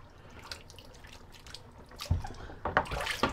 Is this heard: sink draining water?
yes